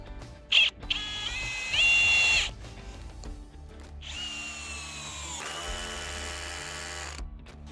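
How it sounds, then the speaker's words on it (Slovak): A Hilti SF 4-22 cordless drill driver in first gear drives an 8x100 mm screw, its motor whining in several bursts that rise and shift in pitch with short stops between, close and fairly loud. "Pre skrutku 8x100 mm volím prvú rýchlosť a režim 15 pre skrutkovanie."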